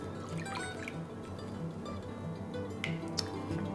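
Worcestershire sauce and apple cider vinegar pour into a pot with faint, soft liquid trickles and drips, quiet and close over low background hum.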